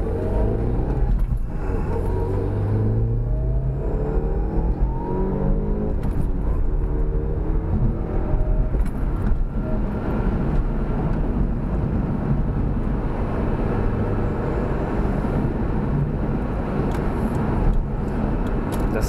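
Mitsubishi Galant VR4 engine running steadily with a new downpipe and muffler installed, a continuous low rumble with a deep drone throughout, heard close with some wind buffeting and no talk.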